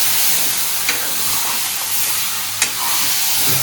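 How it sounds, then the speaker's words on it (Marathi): Grated coconut is sautéed in a pan, making a steady, bright sizzle and hiss throughout, with two short scrapes of a spoon stirring against the pan. "परतून घेऊ मस्त."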